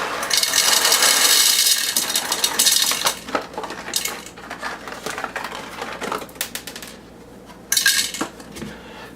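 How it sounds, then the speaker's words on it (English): Hard coffee beans rattle and clatter as they are poured into a grinder, a dense rushing patter that thins out, then a brief final spill. "we're just going to pour them into the coffee grinder"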